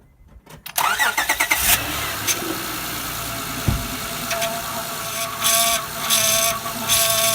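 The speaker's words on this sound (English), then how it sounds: "now I'm going to go ahead and start the car" A Honda Odyssey with a noisy power steering pump cranks with a few quick turns and catches, then settles into a steady idle, loud and close, with a couple of faint clicks and knocks over the running engine.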